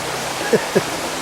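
A river flowing beside a woodland path in Studley Park near Ripon, North Yorkshire, giving a steady loud rushing wash throughout, with two brief footstep-like bumps in the middle.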